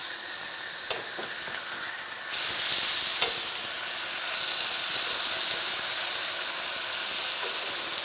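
Salmon frying in a skillet with reduced sugar syrup, a steady close sizzle that jumps louder as the fillets are turned over, with a few small clinks of the utensil against the pan.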